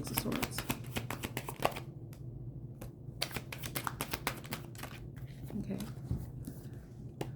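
Tarot cards are shuffled close up in a rapid series of crisp riffling flicks and snaps, pausing briefly and then resuming, with a voice heard faintly at times.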